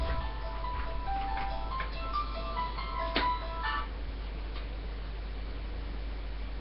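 A phone ringtone plays a short electronic melody through a hissy line for about four seconds, then stops, leaving steady low background noise.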